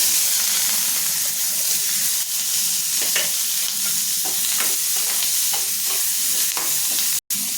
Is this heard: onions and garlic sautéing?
yes